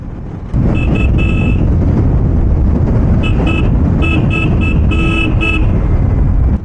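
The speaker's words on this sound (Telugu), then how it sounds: "వాడికి ఇప్పుడు హారన్ కొట్టినా వినపడదు" Short bursts of a car horn beep in clusters over steady, loud road and engine noise while riding the hairpin bends of the Kolli Hills, several toots close together.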